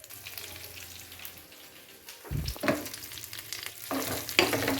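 Dried red chillies frying in a pan with oil while being stirred: a steady close sizzle with scraping spoon strokes that grows louder and busier partway through, with no talk.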